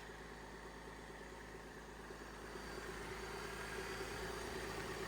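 A flood-damaged Cadillac CTS engine idles steadily with a low rumble and faint vibration, quiet and continuous, getting slightly louder toward the end.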